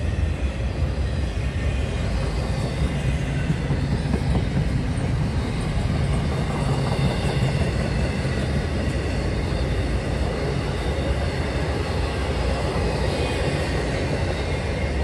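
A freight train rumbles steadily past, a continuous broad roar with rattling undertones, loud and unbroken throughout with no voices.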